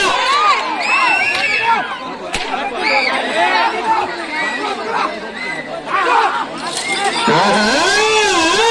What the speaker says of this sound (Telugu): ఘనమైన కేకలు చప్పట్లతో రైతులు ఉత్సాహపరిచారు